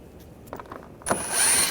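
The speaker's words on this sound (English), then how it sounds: "Using a T25 socket, take these screws out." A ratchet with a T25 socket turns out screws during AC condenser work on a 2009-2017 Volkswagen Tiguan, a few soft clicks followed by a loud rapid metallic ratcheting burst up close.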